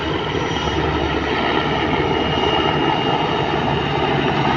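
Aircraft engine roar during a touch-and-go at an airfield, a steady loud drone with a constant pitch throughout, no voices over it.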